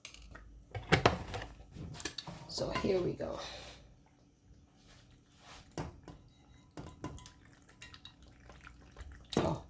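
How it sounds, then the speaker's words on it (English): Cooked pasta for baked ziti is poured into a Pyrex glass baking dish, giving close, scattered clatters and soft wet thumps in uneven bursts. A person talks briefly in between. "we're going to pour the pasta directly into the Pyrex dish"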